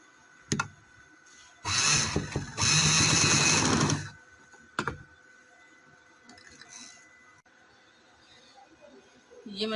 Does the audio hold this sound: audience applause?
no